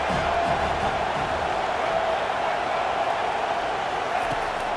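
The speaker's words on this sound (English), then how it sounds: "Decibels rising as the crowd gets behind this defense on 3rd down." A college football stadium crowd roars on third down as the defense takes the field, a dense, steady wall of cheering and noise that holds at full volume throughout.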